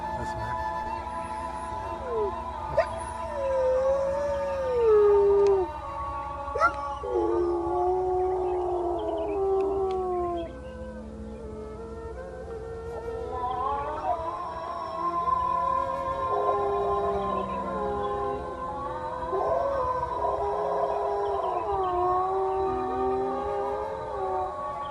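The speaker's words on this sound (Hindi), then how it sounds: "ये कुत्ता अजान के साथ आसमान की जानिब मुंह करके आवाजें निकाल रहा है" A dog lifts its muzzle skyward and howls in long, wavering, rising and falling wails alongside a distant call to prayer, the howls repeating in several drawn-out bouts over faint background noise.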